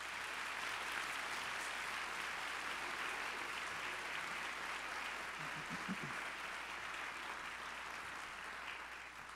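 Sustained applause from an audience at a high school winter concert, a dense, even wash of clapping from the whole hall that tapers slightly toward the end.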